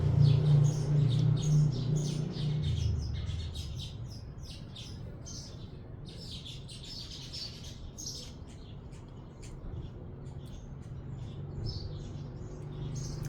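A pair of sparrows outdoors in Laos keeps up a steady run of bright, rapid chirps and tweets, fairly near, with a low murmur at the start that fades to a quiet background.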